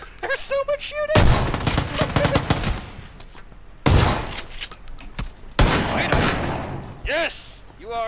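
Video game gunfire crackles in dense bursts and rattling volleys, loud and near, while players shout and talk over the shooting.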